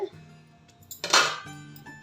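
Metal spoon scraping and clinking against a pan while sugar is stirred into rose syrup kesari, a short burst of scraping in the middle between quieter moments, close and moderately loud.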